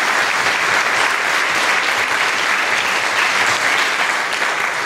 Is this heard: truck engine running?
no